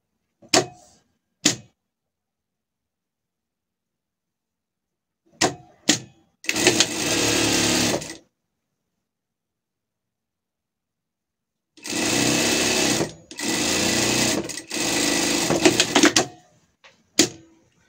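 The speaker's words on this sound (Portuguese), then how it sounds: "a gente vai fazer uma costura aqui de fora a fora" Sewing machine stitching a seam on surgical scrubs, one short run followed later by three longer runs in quick succession, loud and close, with scattered clicks and taps between.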